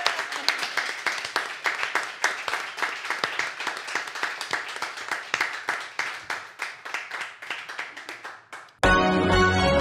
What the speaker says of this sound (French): Et notre grande gagnante sous vos applaudissements